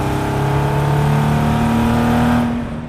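Chevy-powered 1971 Datsun 240Z engine revving while driving, a loud, close exhaust note holding a steady droning pitch that rises slightly, then fades away near the end.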